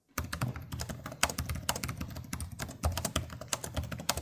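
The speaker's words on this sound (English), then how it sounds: "Here's what the keys themselves sound like." Keys on an MSI Stealth A16 gaming laptop keyboard being typed on, a rapid, uneven stream of crisp clicky taps up close, continuing steadily for several seconds without speech.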